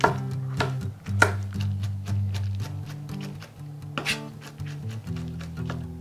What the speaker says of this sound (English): If the pecans you bought aren't chopped up, you're going to have to chop them up as small as possible.